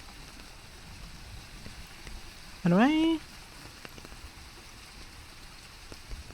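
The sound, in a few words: looped rain sound recording played for ASMR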